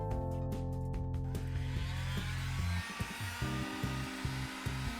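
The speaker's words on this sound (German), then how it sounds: "Ich benutze jetzt hier eine Heißluftpistole" A heat gun warms an iPhone 7 during a display repair to soften the adhesive, giving a loud, steady motorized whir with a fan-like hiss. The whir wavers slightly and holds throughout, with no talk.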